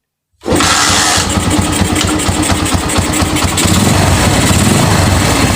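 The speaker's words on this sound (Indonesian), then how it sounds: "Kita coba mesin untuk dinyalakan." A Honda Mega Pro motorcycle engine fires up after a brief silence and settles straight into a steady, loud idle that chugs on without a break, up close and with no talking.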